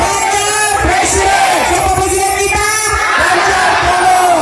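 A large crowd at a presidential campaign rally in Nusa Tenggara Timur roars and cheers loudly and continuously, voices shouting together in a dense, near wall of sound.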